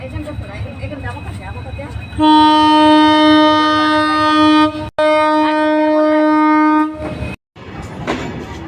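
A passing train sounds a loud, sustained horn at close range, with one long blast, a brief break and a second blast, set against a murmur of outdoor background noise before and after.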